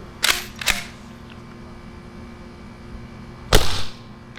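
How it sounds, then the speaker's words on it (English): An Umarex T4E HDX .68 less-lethal shotgun fires close by: two sharp reports in quick succession, a quiet pause, then a third crisp shot with a brief echo. "it's shooting right around 500 feet per second"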